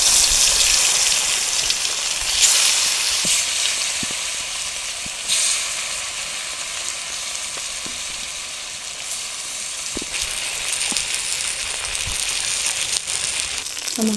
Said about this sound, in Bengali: কড়াই দিয়ে দেবো সরষের তেল, তেলটা গরম হয়ে গেছে, মাছগুলো দিয়ে দেবো।